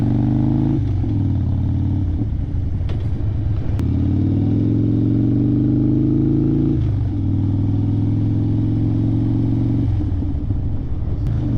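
A 2016 Harley-Davidson Dyna Street Bob FXDB rides along with a loud, continuous V-twin rumble up close, rising and dropping with throttle and a few brief dips as gears shift.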